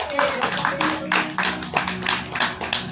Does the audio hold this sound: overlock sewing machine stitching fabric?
no